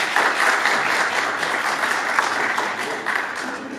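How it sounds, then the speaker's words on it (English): An audience at a talk for girls at a Detroit basketball event breaks into applause, a loud, sustained patter of many hands that holds steady and then eases slightly toward the end. "A round of applause."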